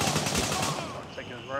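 Rapid automatic gunfire in the Gray Zone Warfare video game, bursts of rounds clattering in the first second during a fort-clearing firefight, then thinning out as a voice comes in over the top.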